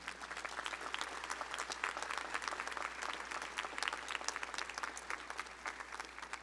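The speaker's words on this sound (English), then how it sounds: "Let's give them a round of applause for all they've done." Graduates and guests at the LSU Law Center spring commencement give a round of applause, a steady, even sheet of many hands clapping heard from a distance throughout.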